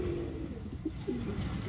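Madras flying pigeons cooing in a loft, two or three soft low coos rising out of a busy background rumble, fairly close, with no speech over them.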